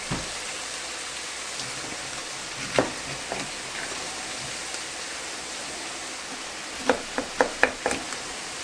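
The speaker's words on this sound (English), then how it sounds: "These onions are kind of caramelizing." Onions caramelizing in a pan for a pear chutney give a steady soft sizzle throughout, with a few sharp pops and spatters late on, close and without talk.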